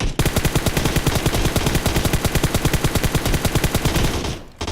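A fully kitted M4 rifle in a video game, fitted with a 6x scope, fires one loud, rapid, evenly spaced sustained burst for over four seconds before it abruptly stops.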